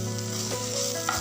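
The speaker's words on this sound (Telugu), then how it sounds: "అల్లం వెల్లుల్లి పేస్ట్ వేసుకుని మరలా బాగా వేపుకోవాలి" Spring onions and ginger-garlic paste sizzle loudly and steadily in a hot pan, with a faint stirring scrape near the end.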